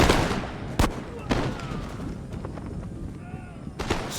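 Musket volley in the Empire Total War video game: a sharp crack of massed gunfire opens, then scattered shots echo through a dense battle din with distant shouting underneath.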